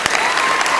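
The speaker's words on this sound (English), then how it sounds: "So let's give our firefighters a big round of applause." An audience at an elementary school award event applauds firefighters with a brief, dense wash of clapping, loud and continuous for under a second.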